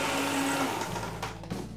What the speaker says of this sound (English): blend this for roughly about 2 to 3 seconds